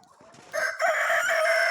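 A rooster crows loudly and close, following a few soft clucks from chickens in a snowy setting.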